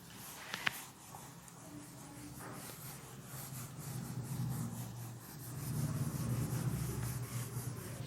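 A teacher rubs a classroom board clean during a physics lesson, a steady scratchy friction that swells louder in the second half and runs on without talk.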